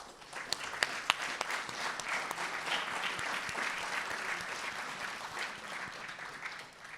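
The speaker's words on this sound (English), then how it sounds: "Let's give them all a round of applause." An audience at a college athletics hall of fame ceremony applauds the honorees with sustained, even clapping, a few sharp nearby claps standing out early in the applause.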